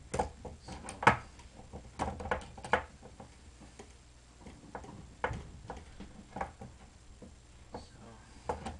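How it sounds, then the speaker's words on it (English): Screws are taken out of the wing of a Kyosho Scorpion model: irregular small clicks, ticks and taps of a screwdriver and parts, close and fairly quiet, with pauses between bursts. "Take the screws out for the wing."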